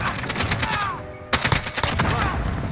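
AK-47 fire in the video game Modern Warfare: a rapid burst of loud, close shots, then a short lull and another clustered volley of sharp cracks.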